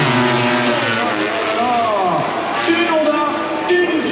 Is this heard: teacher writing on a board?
no